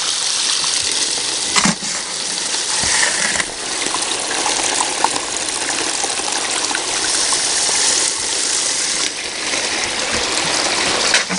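Water rushes continuously through an 8-foot sluice box, washing gravel and bigger, lighter rocks along in a steady loud gush, with occasional knocks and splashes.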